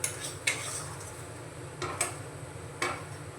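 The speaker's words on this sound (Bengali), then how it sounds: "একটু আমি নাড়িয়ে নিচ্ছি।" A spoon scrapes and clinks in a pan of spiced soybean curry, with a few sharp metallic taps over a steady low background of stirring, close and moderately loud.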